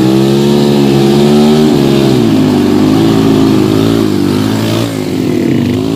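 A truck engine revs hard under pushed throttle on the road at Tugu Cadas Ampar, a loud, close, continuous droning roar whose pitch rises and dips as it strains, with no voices.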